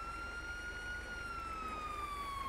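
An ambulance siren wails in GTA 5, a steady high tone slowly gliding downward, faint and somewhat distant, heard alone without talk.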